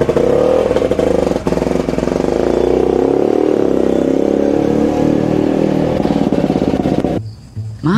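A motorcycle engine roars loudly and close, revving hard with a rough, rattling growl before cutting off abruptly near the end.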